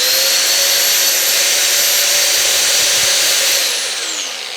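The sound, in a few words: 750 W angle grinder starting up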